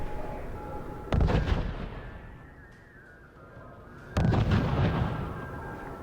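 Two heavy artillery blasts boom in the R.U.S.E. strategy game, each a sudden loud crack with a rumbling tail that fades before the next shot about three seconds later.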